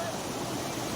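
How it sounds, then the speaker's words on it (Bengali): A small waterfall on a hill trek at Parasnath, Jharkhand, gives a steady broadband rush of flowing water, loud and close, continuous with no break. "ঝর্ণা বয়ে চলেছে"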